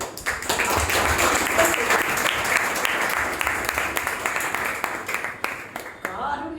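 A church audience at a testimony gathering breaks into loud sustained applause, dense clapping held steady at close range before tapering off near the end.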